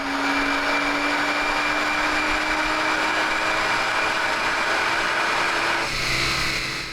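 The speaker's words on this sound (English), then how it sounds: "we're going to be putting our MHD Stage 1 340i on the dyno to see exactly what we're looking at as far as wheel figures" A tuned BMW F30 340i with an MHD Stage 1 map roars loud and steady on a chassis dyno, holding a sustained high-revving drone that shifts pitch briefly near the end.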